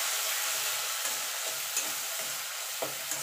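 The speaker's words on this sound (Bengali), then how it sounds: "পেঁয়াজটা একটুখানি ভাজা ভাজা করে নেব।" Onion paste fries in a pan while cooking a mouri katla fish dish, giving a steady close sizzle with a few soft stirring scrapes and clicks throughout.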